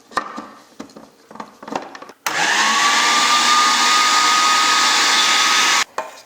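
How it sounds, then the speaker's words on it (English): A food processor runs on ground almonds and icing sugar, starting with a few short clattering bursts, then a loud sustained whirring run that stops abruptly near the end. "1 cup of ground almonds and 1 3/4 cup of icing sugar into a food processor and then pulse this for about a minute."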